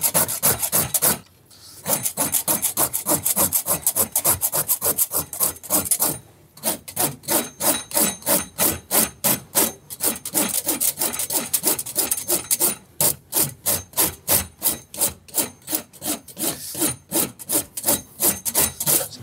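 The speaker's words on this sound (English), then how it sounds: "I'm just getting rid of sort of excess wood." A rasp files excess wood off a wooden shoe last during bespoke shoemaking, with steady rhythmic back-and-forth strokes that pause briefly twice before resuming, loud and close with no talk.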